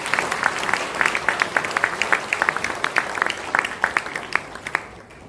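A church congregation applauds during an ordination service, a sustained wash of many hands with distinct sharp claps popping through, steady for several seconds before tapering off.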